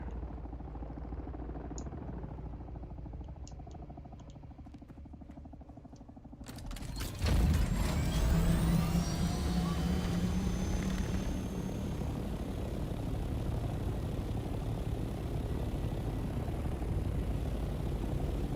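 Aircraft flyover in the video game Dune: Awakening: near silence, then a sudden loud engine roar sweeps in about midway and holds as a steady droning whoosh to the end, with no talking.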